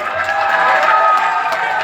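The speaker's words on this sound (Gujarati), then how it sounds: "જોરદાર તાળી થઈ જાય" Applause and crowd noise fill a gathering in Bhabhar, Banaskantha, where women stand together for a public visit: a steady, dense wash of clapping and cheering held at an even level from start to finish, with no break.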